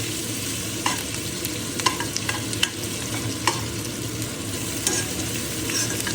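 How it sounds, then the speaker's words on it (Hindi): Chopped onions frying in a pan for a potato dish, a steady close sizzle with scraping spoon strokes and occasional clicks against the pan, continuous throughout with no talking. "पहले हम प्याज को अच्छे से भून लेंगे।"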